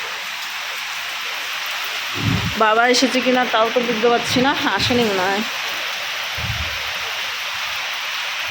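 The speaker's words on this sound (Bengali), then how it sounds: "বাইরে শুরু হয়েছে জোরদার বৃষ্টি" Heavy rain falls outside in a loud, constant roar that fills the entire stretch, with someone talking briefly over it in the middle.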